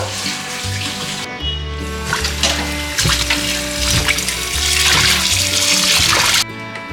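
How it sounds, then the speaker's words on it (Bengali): Mangoes are washed under running tap water in a sink, a close, steady splashing and trickling that rises and falls as the fruit is turned and rinsed, with faint background hum. "ম্যাঙ্গোগুলো ধুয়ে নেব"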